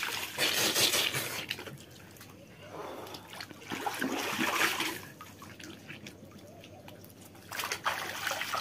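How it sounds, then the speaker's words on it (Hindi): Dirty water drains from a village pool through an opened pipe, a steady close trickle and splash that swells and fades over several seconds with no speech. "पानी सब निकल जाएगा गंदा पानी।"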